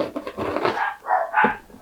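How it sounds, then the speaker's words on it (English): Two or three quick, fairly close dog barks in succession, loud and alone, heard indoors from a home painting studio. "Oh, dog's barking, I apologise."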